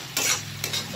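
Onion, ginger, garlic and tomato frying in a pan with two bursts of stirring scrapes over a steady close sizzle, no voices.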